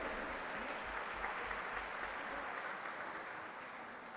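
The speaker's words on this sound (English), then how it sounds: "Huge round of applause, friends." An audience at an endowment lecture series honoring Saint Dnyaneshwar and Saint Tukaram claps warmly, a continuous dense wash of applause with a steady rhythm that gradually tapers toward the end.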